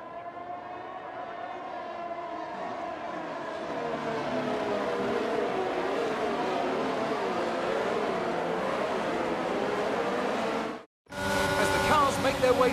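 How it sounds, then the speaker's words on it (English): Formula 1 cars in F1 22 rolling through the formation lap at the Baku street circuit, a sustained droning engine whine that swells and holds, then cuts out briefly before a brighter burst of noise. "The formation lap gets underway and every driver will be looking to settle in for the race ahead"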